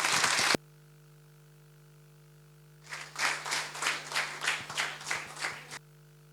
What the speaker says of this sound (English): With a huge round of applause, let's begin the event.